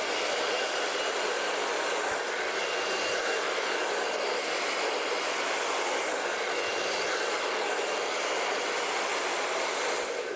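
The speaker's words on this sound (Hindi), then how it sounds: "जब भी आप ड्रायर करते हैं, स्ट्रेट ड्राई करेंगे" A hair dryer blows steadily and loudly at close range throughout while hair is blow-dried straight with a brush, a constant broadband rush with no break.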